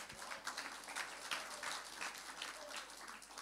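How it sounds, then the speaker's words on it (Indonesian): A church congregation at a Sunday service in Jakarta claps steadily, a dense, even wash of applause heard at a distance and fairly faint, with no talk over it. "Tepuk tangan buat Tuhan Yesus."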